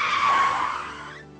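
A car's tires skid with a loud, harsh screech that swells and then fades off over about a second and a half, heard alone with no talking.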